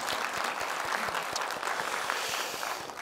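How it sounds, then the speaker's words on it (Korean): An audience at a parenting talk concert in Gwangju gives a sustained round of applause, a dense, even patter of many hands that holds at moderate loudness throughout. "일단 박수 부탁드립니다."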